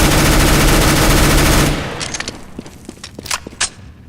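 A P90 submachine gun firing a sustained burst in Counter-Strike: Global Offensive, a loud dense roar of rapid shots cutting off abruptly, followed by scattered faint clicks and smaller impacts.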